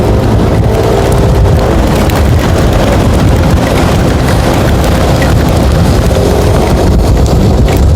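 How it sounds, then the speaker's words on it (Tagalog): Strong late-afternoon stormy wind roars continuously during a bicycle race, buffeting the microphone with a heavy, rumbling gust noise throughout, no voices. "Ang lakas ng hangin habang papahapon"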